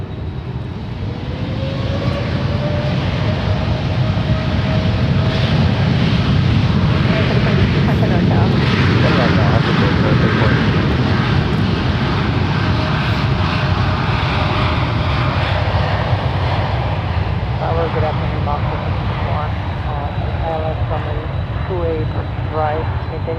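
A jet airliner takes off from runway 1 Right at San Francisco International Airport, its engine roar building loud and steady before slowly fading, with air traffic control radio talk over it.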